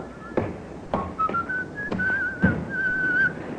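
A man whistles a steady, wavering melody in an old-time radio crime drama, a clear, close, sustained tune with a few soft thumps of action beneath it and no talking.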